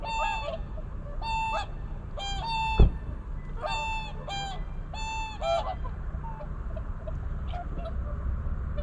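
Swans call across Lake Saroma, a calm brackish lake in Hokkaido in December, with repeated honking bugles in short bursts, some overlapping, over a low steady background.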